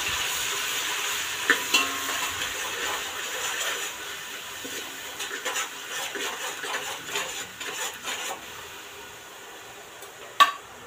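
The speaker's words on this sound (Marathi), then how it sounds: "कांदा अगदी छान तांबूस रंग येईपर्यंत असा छान परतून घेतलेला आहे तेलावरती" Onion and ginger-garlic paste sauté in oil with a soft, moderate sizzle broken by repeated stirring scrapes and clinks, and one sharp utensil knock near the end; no voices.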